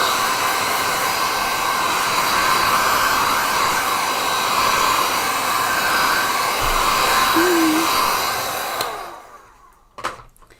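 A hair dryer blowing over a gouache painting and heating the masking tape at its edge, a loud continuous whir that cuts off near the end and leaves a couple of faint knocks.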